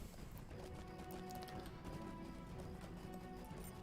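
Hooves of a summoned horse in a fantasy video game, a quiet continuous clip-clop of galloping steps under background game sound.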